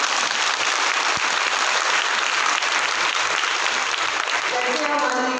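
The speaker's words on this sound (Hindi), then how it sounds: "सब लोग बहुत जोरदार तालियां बजाएं" Loud, dense applause from an audience at a Brahma Kumaris Rajyoga camp gathering, continuous throughout, with a voice starting to speak over it near the end.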